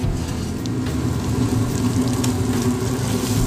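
Chopped garlic sizzling steadily in a Dutch oven, a dense, even crackle of frying up close with no pauses, moderately loud and without voices.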